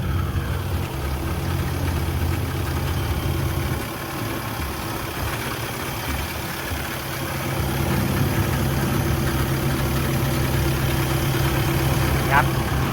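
A Sumitomo HA60W-7 asphalt paver's diesel engine idles steadily nearby with a low, rumbling drone and slight vibration, continuous throughout, dipping briefly before returning to full level.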